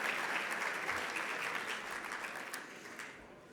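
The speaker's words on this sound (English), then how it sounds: "How about a round of applause for all our committee chairs and vice chairs?" An audience at a mayors' winter meeting plenary session gives a round of applause, broad and dense from many hands, fairly strong at first and then thinning and fading toward the end.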